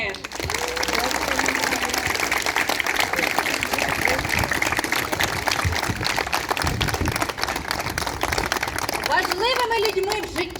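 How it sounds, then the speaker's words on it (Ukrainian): Sustained applause from a crowd greeting the 11th grade parents at a school graduation ball at a lyceum, dense clapping with music running underneath. "Вітаємо батьків 11 класу оплесками!"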